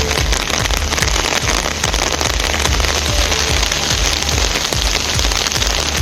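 A sudden heavy downpour in farming areas around Vanagiri and Annamalai Nagar makes a dense, constant roar of rain hammering surfaces, loud and unbroken throughout.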